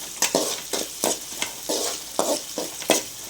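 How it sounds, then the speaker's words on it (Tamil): Onions and okra sautéing in a pan for sambar tempering, with a steady sizzle broken by regular stirring scrapes, about eight strokes in a few seconds, close and clear with no talking. "அப்படியே சாம்பார் தாளிச்சுட்டு வெங்காயம் வெண்டைக்காய் எல்லாம் நல்லா வதங்கி வரட்டுங்க"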